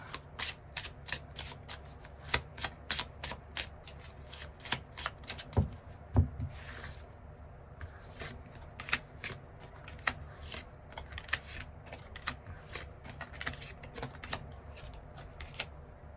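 Tarot cards shuffled steadily by hand, a dense run of crisp riffling snaps and flutters that continues for the whole stretch, fairly close and with no talking.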